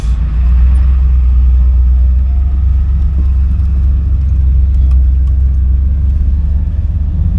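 A 1991 Chevy G20 van with a swapped LS engine and 4L80E transmission drives off from a standstill, giving a steady, loud low rumble of engine and road noise that holds evenly throughout, with no talking.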